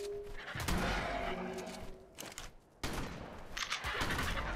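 Shotgun blasts from ARK: Scorched Earth ring out in heavy, dense bursts, with a short break in the middle before another loud volley of gunfire.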